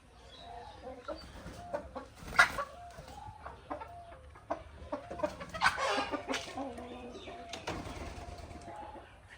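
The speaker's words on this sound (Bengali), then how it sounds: "এইটা টাইগার মোরগ আর ওইটা সম্ভবত টাইগার মুরগি" Tiger-breed rooster and hens, alongside local chickens, cluck and call in scattered bursts, with a few louder squawks, under quiet intermittent talk.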